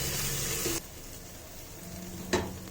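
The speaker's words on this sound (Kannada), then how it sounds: "Ginger garlic paste 1 table spoon ಮಾಡಿಟ್ಟಿದ್ನಲ್ಲ ಅದು ಹಾಕೋತಾ ಇದ್ದೀನಿ. ಇದೊಂದು ಸ್ವಲ್ಪ ಫ್ರೈ ಆಗಬೇಕು," Ginger garlic paste frying in hot oil for rajma masala, a steady broadband sizzle that drops sharply partway, with a brief stir scrape later; no voices.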